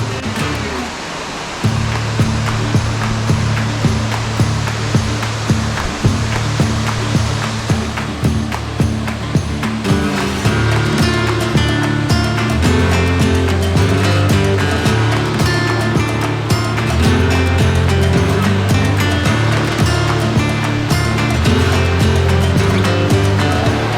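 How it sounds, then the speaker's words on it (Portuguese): The Véu da Noiva waterfall near Lago Azul in Jaguariaíva, Paraná, heard from the top of the falls as a loud, continuous roar of rushing water, steady and close, with no talk over it. "eu cheguei aqui na parte do topo da cachoeira do Véu da Noiva"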